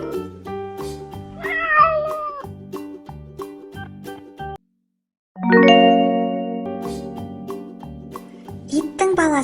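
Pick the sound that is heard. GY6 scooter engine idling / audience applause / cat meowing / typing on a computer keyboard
cat meowing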